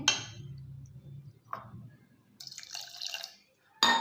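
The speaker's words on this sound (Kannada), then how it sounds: "ಇನ್ನು ಸ್ವಲ್ಪ ನೀರು ಹಾಕೊಳ್ಳೋಣ ಗಟ್ಟಿದೆ" A brief splash of water poured into rava uttapam batter in a bowl, with a few soft drips and clinks around it and a louder splash near the end.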